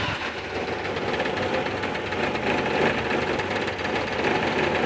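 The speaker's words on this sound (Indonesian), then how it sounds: "Ini mesin sudah dinyalain." A 1994 Suzuki Carry 1.0 pickup engine runs at a cold idle with a steady, fast mechanical clatter and rough vibration, continuous and fairly close.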